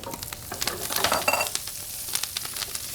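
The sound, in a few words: halved Brussels sprouts frying in bacon fat in pan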